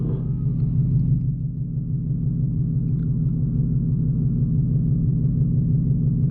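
A Whipple supercharged S650 Mustang GT engine rumbles steadily nearby, a deep, loud, continuous low drone with a slight pulsing throb and no talk.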